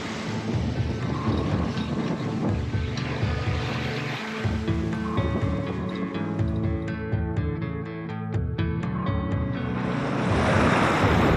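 Rough North Sea waves surge and wash against a sailboat under way in late fall, a loud continuous roar of water and wind buffeting the microphone, with no talking.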